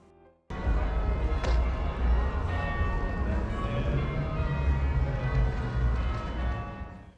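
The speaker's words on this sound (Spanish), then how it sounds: "Esas campanadas que acaban de escuchar provienen de la catedral" Bells of Derby Cathedral, a historic ring of ten, pealing loudly and continuously after a brief quiet start, with rich overlapping tones and low street rumble underneath.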